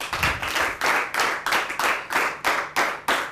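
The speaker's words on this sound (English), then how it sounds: "A round of applause for them." Rhythmic audience clapping at a schools debate in Adamawa State, a group of hands clapping in unison in regular, evenly spaced bursts, moderately loud and sustained.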